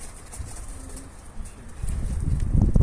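Pigeons coo softly at a distance over steady outdoor ambience, with a rustle like wing flaps and rising background noise toward the end.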